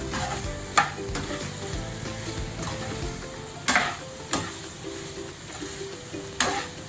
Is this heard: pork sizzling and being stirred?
yes